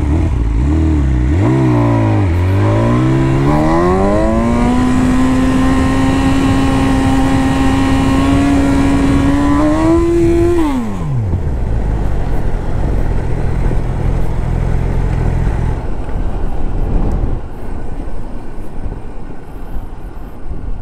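A BMW S1000 motorcycle on a race track revs hard: the engine climbs quickly in pitch, holds a loud, high, sustained scream for several seconds, then drops away sharply into a rougher, lower roar.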